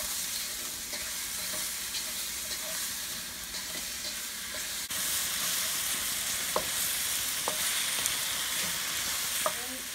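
Meat frying in a pan with brown sugar for Filipino humba, a steady close sizzle with stirring scrapes throughout, growing slightly louder midway, a few sharp clinks of the spoon near the end.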